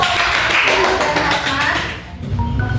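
Clapping from a classroom audience after a student group's presentation in an Islamic religious education class, a brisk close patter of hands that thins out toward the end, with a voice talking underneath.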